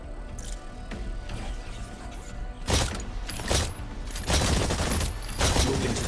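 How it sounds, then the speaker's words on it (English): In the video game Exoprimal, gunfire at a target rings out in several loud, dense bursts over a mechanical background, with rapid volleys coming close together. "Fire at the target."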